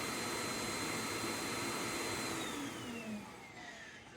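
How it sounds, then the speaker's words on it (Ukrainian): Vitals Master PS 3014SPsw construction vacuum cleaner, a 2 kW unit, whirring steadily after switch-off, then its motor pitch sliding down as it winds toward stopping; loud and close, no talk. "Вимикаємо, пилосос працює ще певний час, як я і казав, і вимикається сам."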